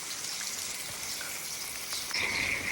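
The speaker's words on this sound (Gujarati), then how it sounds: "એટલો વરસાદ છે અને બધે પાણી ભરાણો છે." Heavy rain pours steadily in a village during a downpour, with floodwater collecting everywhere; a dense, even hiss stays loud throughout and swells slightly near the end.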